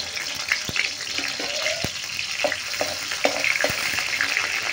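Garlic and oil sizzle steadily in a wok, a continuous close frying hiss broken by several sharp clinks and scrapes of a utensil against the pan.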